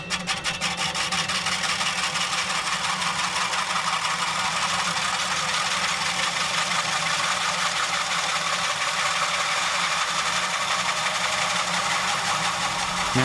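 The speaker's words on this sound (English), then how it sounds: "First, we take a 4-inch hole saw to make a hole in the center of the sheet." A 4-inch hole saw bites into a metal cookie sheet, a loud, continuous grinding drone with a fast rattling vibration that holds steady and close throughout.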